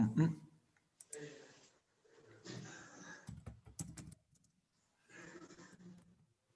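Someone types a search on a computer keyboard, with scattered bursts of light key clicks mixed in with talking.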